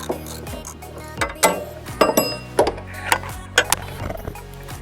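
Ratchet wrench fitted with a 17mm socket clicking as it loosens brake caliper bolts on a Ural sidecar motorcycle, several short bursts of close metallic ratcheting with clanks between them, no talking.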